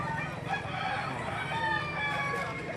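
A rooster crows twice among other chickens clucking at a Saturday poultry market in Lipa City, Batangas, with low crowd murmur underneath.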